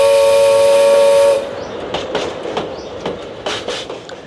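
A toy train's loud steady whistle blares for over a second, then cuts off into rhythmic clickety-clack chugs and steam-like puffs, close and prominent with no talk.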